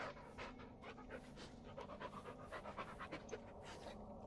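Dog panting in the Blair Witch horror game, a quick, rhythmic, close breathy pant that continues steadily and softly throughout with no talk.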